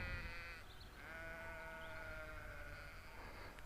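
A flock of sheep bleats near a campsite in the Peak District, several long overlapping calls rising and falling close by over steady outdoor background noise, with no talking.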